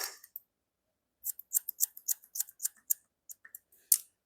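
Scissors snipping hair during a men's dandy haircut in a salon, a quick run of crisp close metallic cuts in uneven bursts, with a short pause near the start and no talking.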